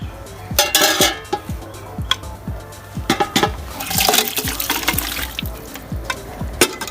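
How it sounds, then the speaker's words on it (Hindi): Pressure-cooked beef is tipped into a cooking pot for korma, giving a run of clattering metal knocks and wet, splashing thuds, close and fairly loud. "अब पतीले में हमने गोश्त को डाल दिया है।"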